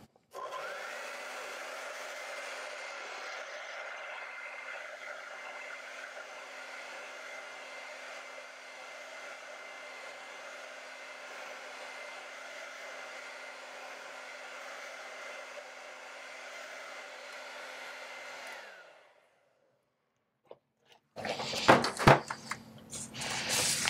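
A hair dryer blows steadily on acrylic paint for about eighteen seconds, a constant loud whirring drone that cuts off, followed by a few seconds of clattering handling noises.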